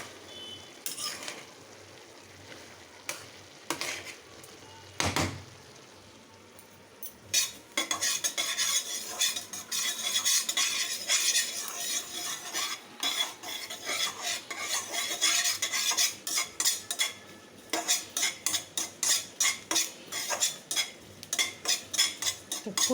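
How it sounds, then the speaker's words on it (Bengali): Dried chillies and a bay leaf temper in hot oil while a metal spoon stirs and scrapes the pan in quick, rhythmic strokes, joined by a soft sizzle and occasional clanks, fairly close and with no talking. "তেল আর দুটো শুকনো লঙ্কা দিলাম, আর তেজপাতা একটা ফোড়ন"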